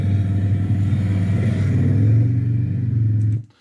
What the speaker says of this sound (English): So listen to the engine.